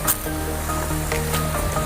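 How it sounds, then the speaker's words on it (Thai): Waterfall fed by two streams at a national park campsite, a loud, steady broadband rush of falling water close by, with no one speaking. "นี่นะครับเห็นน้ำน้ำตก น้ำตกนี้มาจาก น้ำสองสายนะครับ"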